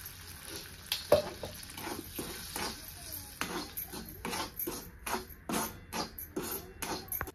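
Sago flour roasting in ghee in a pan, heard as soft, faint sizzling under repeated scraping and clinking stirs of a spoon against the pan.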